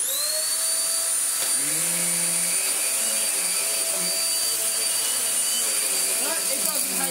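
Vacuum cleaner running on a rug, a steady loud motor whine with a high pitched tone that holds throughout, and brief pitch sweeps as the machine moves.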